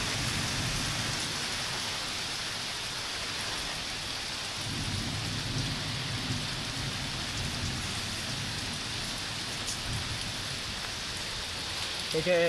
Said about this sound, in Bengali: দেখো বৃষ্টি হচ্ছে কিরকম।